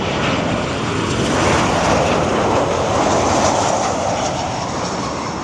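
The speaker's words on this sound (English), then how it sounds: "That's looking like a Ryanair flight to me." A Ryanair passenger jet lands at Lanzarote Airport with a loud, steady, broadband engine roar that swells slightly and holds throughout, heard alone outdoors.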